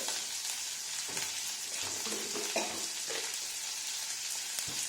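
Shrimp sizzling steadily in a hot pan for a coconut bhorta, a continuous close crackling fry with occasional soft stirring scrapes and no talk.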